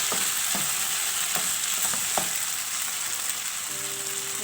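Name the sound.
stirring sizzling paneer potato cauliflower roast with butter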